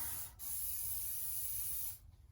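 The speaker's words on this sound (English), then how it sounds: "I'm going to spray a little more" A steady hiss of liquid sprayed from a spray bottle onto a cylinder head during hand resurfacing, one long continuous burst lasting about a second and a half, close up.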